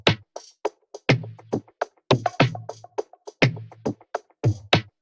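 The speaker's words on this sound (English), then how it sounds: "nice hard hitting toms." Hard-hitting toms layered into a drum groove for an Afro fusion beat built in FL Studio, punching out in a steady repeating pattern of loud, deep hits with crisp percussive accents over about five seconds, no voices.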